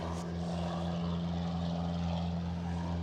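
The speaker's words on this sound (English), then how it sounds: "right now we have a plane, as you can see probably in the background." A propeller airplane passes near a hotel beside an active tarmac, giving a steady droning engine hum with a strong low tone that stays even and continuous, fairly loud and close, with no talk.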